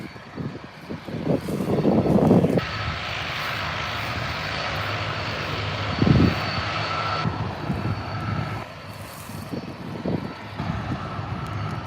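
Turboprop engines spool up at Adelaide Airport, a loud rising whine and roar that holds steady and close, with a few louder whooshing surges and rumbling underneath.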